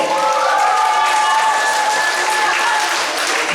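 An audience applauds loudly and continuously at a televised show, a dense even wash of clapping from a large crowd that fills the whole stretch.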